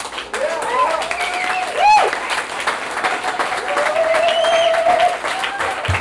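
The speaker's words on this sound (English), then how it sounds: "I'd like everybody to give a round of applause to Zach" An audience claps steadily for Zach at a local advocacy group's meeting, mid-level, with voices and a whistle-like tone over the clapping.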